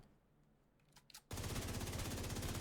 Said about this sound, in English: I'm going to shoot into the body to get the strikers stacked up